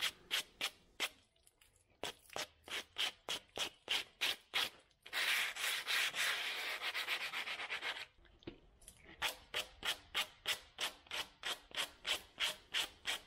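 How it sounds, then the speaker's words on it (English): A concrete hearth is hand sanded with a 50 grit polishing pad, giving rapid rhythmic back-and-forth rasping strokes close up, with a stretch of continuous scrubbing in the middle before the regular strokes resume; quiet overall and free of talk. "I'll start with the 50 grit hand polishing pads to take off a lot of the cream that oozed over the"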